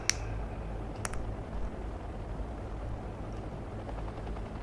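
Huey helicopters carrying US Marines in the strategy game Wargame: Red Dragon, heard as a steady low rotor drone throughout, with a few sharp interface clicks near the start.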